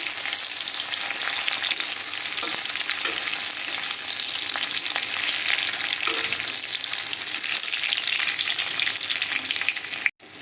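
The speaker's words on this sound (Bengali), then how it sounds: "সবগুলোকে আমরা খুব ভালোভাবে ভাজা করে নিচ্ছি।" Tomato, ginger, garlic and chilli fry in a pan for pumpkin-leaf bharta, giving an unbroken close sizzle with light stirring scrapes and a single sharp knock near the end, no talking.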